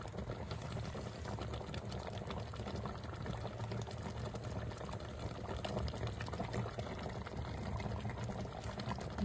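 Lapsi pickle (achar) bubbles and splatters in a pan as it cooks, a dense, steady sizzle and popping that continues evenly for about nine seconds at close range, with no talking.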